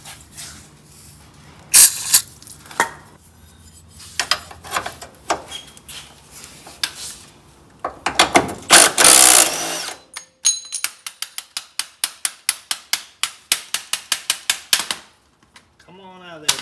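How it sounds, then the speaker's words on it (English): A power drill whirs in short, loud bursts close by, drilling out a lubricated bolt on a Ford F100 truck front end, stopping and starting, followed by a rapid series of ratcheting clicks. "See if we can drill that thing off of there"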